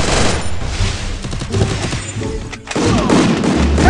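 Gunfire in the Garena Free Fire video game: a dense spray of rapid automatic shots from an M1014, a brief pause, then more loud bursts close up.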